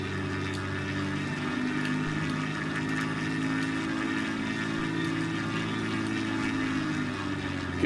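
A Maule MX-7-180 single-engine propeller plane roars at full power for takeoff in a flight simulator, a dense, steady droning hum with buzzing harmonics that holds constant throughout.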